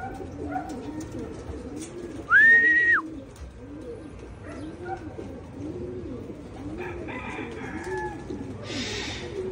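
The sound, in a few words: racing pigeons arriving at the loft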